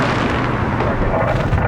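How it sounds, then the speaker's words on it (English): Dense Fourth of July fireworks boom and crackle without pause from every direction around a city street, forming a loud, continuous roar of overlapping explosions. "But I mean, literally every direction you look, there's fireworks."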